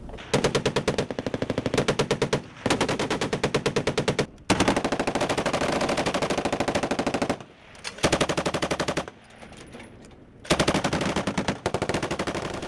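Bursts of rapid heavy .50 caliber machine gun fire come from a military vehicle during an army training exercise, loud and close, in several long strings with short pauses between them.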